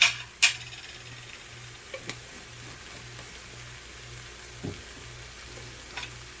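Half a teaspoon of minced garlic fries in a pan with a faint, steady sizzle, broken by a few sharp clicks and taps near the start.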